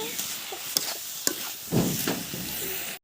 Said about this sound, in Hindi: आलू को भी दोस्तों हमें बिना नमक हल्दी का ही थोड़ी देर भुनना है।